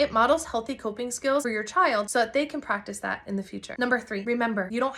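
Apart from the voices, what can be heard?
None of the usual background noises is heard.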